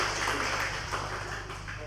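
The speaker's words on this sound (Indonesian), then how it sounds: "Tepuk tangan buat Pintrako Sekuritas." Applause for Pintrako Sekuritas fills a seminar hall as steady, broad clapping from an audience, continuous and even throughout.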